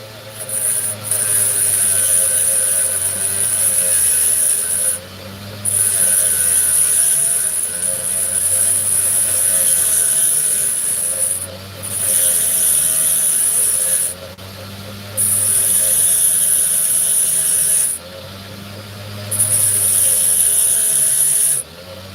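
Dremel rotary tool carving opal, a close, loud high-pitched whine mixed with grinding, running in long stretches separated by brief pauses, with no talk.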